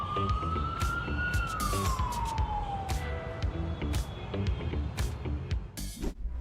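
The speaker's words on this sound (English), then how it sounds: "the soundtrack switches to police sirens seconds later" A police car siren in road traffic, its wailing tone rising then sliding downward over a loud, constant rumble of passing vehicles and engine noise.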